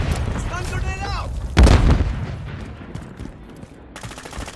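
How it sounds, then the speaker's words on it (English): Stun grenade going off in Call of Duty MW3 multiplayer on the 10v10 Tokyo map: one loud, sharp blast about midway, set among gunfire-like game noise, with a brief game voice early on. "Stun grenade out."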